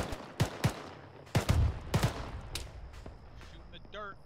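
Gunfire in the military sim game Arma 3 during a mortar section exercise: several sharp shots in an irregular series, some close and loud, others fainter and farther off, with a quieter electronic tone near the end.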